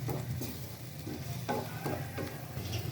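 Broiler chicken korma is stirred in a pan, giving rhythmic scraping strokes over a steady close sizzle, with no voices.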